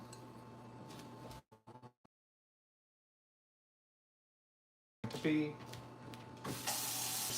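Warm water runs from a kitchen tap in short bursts for pizza dough, then cuts to silence before gushing back on loudly near the end.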